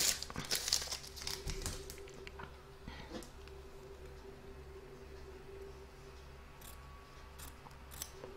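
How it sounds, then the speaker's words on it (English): Tape peeled off a fabric coaster, a quiet burst of crinkly tearing and crackling in the first second or so, then a faint steady hum with a few small ticks. "So I'm just going to remove the tape."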